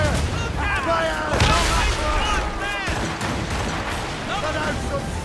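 Ship cannons firing in the Assassin's Creed Rogue video game, a run of loud booming blasts spread across the clip while voices shout over the battle noise.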